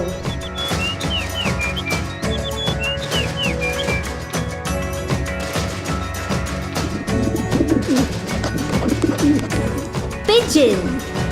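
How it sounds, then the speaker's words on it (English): A pigeon coos and whistles over loud background music, soft repeated calls early on followed by louder, rising notes near the end. "Pigeon."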